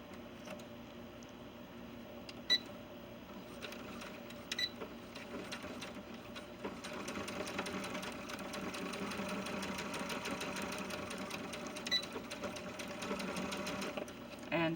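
A sewing machine stitches a diagonal dart on small doll pants, a steady low mechanical hum running continuously with a few faint clicks, moderately quiet and without speech.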